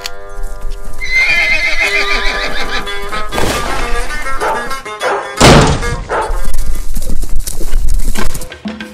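A horse gives a loud, drawn-out neigh up close, followed by heavy thuds and clopping hooves in an irregular rhythm.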